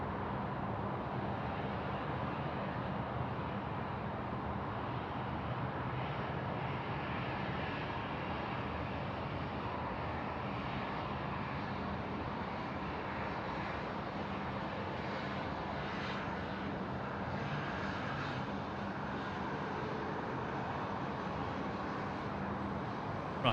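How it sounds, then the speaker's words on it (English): A Qantas Airbus A380 takes off from runway 34 left at Sydney Airport, a steady broad jet roar that holds evenly for over twenty seconds at moderate distance. "Qantas A380, runway 34 left, cleared for takeoff"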